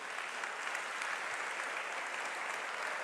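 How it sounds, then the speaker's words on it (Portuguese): Congregation applause during a church sermon, steady dense clapping throughout, even and sustained with no pause. "Quem pode dar outra salva de palmas para o Senhor?"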